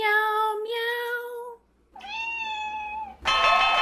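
A Siberian cat meows in long, tuneful drawn-out notes along to a Happy Birthday melody, three sustained yowls close and clear with brief pauses between them.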